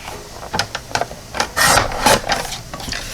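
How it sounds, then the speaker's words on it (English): Scissors snip through a piece of gold cardstock in a run of short, crisp cuts with a few longer rasping strokes near the middle, close and clear with no talking. "So I'm going to cut it off of this piece"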